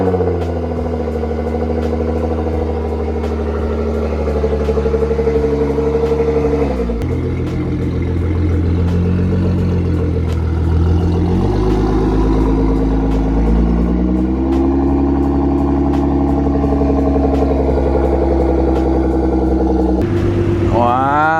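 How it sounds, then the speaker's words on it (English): A car engine cold-starts and settles into a loud, close idle, its steady drone shifting in pitch as the revs rise and fall, with voices talking over it and a brief rev near the end. "let's get this little cold start going"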